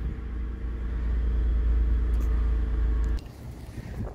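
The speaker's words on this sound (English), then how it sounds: "All right, so the car started," A car engine runs steadily with a low rumble for about three seconds, then cuts off abruptly; no one speaks.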